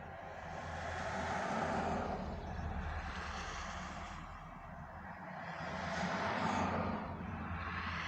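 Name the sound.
car approaching and passing on a road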